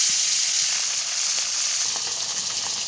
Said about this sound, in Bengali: এবার আমি সবগুলো মাছই ভেজে নেব